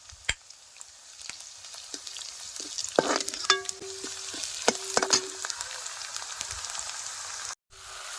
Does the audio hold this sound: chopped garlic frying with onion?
yes